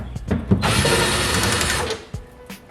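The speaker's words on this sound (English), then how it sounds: "Now I have to go ahead and remove these T15 screws all the way around." A power driver whirs once for about a second while backing T15 screws out of a protective cover on a C8 Corvette, with faint clicks before and after.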